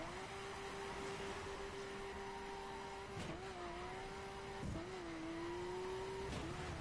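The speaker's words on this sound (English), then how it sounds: "And now we are driving on ice." A car in a PS4 racing game driving on ice, with a steady engine drone that shifts pitch and briefly dips a few times, loud and continuous with no talk.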